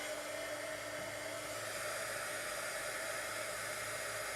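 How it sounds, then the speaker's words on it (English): A crafting heat tool blows a constant close airy roar while melting embossing powder, a steady dryer-like hiss with no breaks. "I'm going to let it heat up a little bit. And the heat tool will melt the embossing powder"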